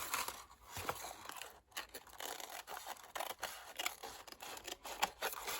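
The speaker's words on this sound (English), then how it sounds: "I'm just going to, trim off a bit, the bit that's overhanging." Scissors trim overhanging book-page paper for a vintage junk journal tag, a close, quiet sequence of irregular snips and crisp cuts with small paper rustles between them.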